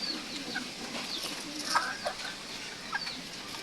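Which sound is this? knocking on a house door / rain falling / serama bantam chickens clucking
serama bantam chickens clucking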